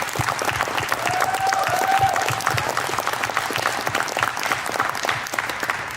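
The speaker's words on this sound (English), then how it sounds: "So for that, can we just applaud?" A crowd applauds at a rally on medical cannabis, a loud burst of clapping from many hands that swells early, then holds and slowly thins, with a brief whistle or cheer mixed in.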